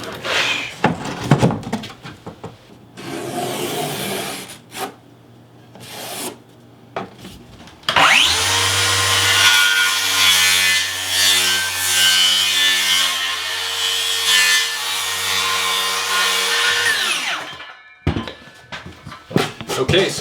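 A Tile Redi shower bench being trimmed about a quarter inch for a tight fit: scattered close rasping and scraping strokes, then one steady, loud cutting run lasting roughly nine seconds before stopping.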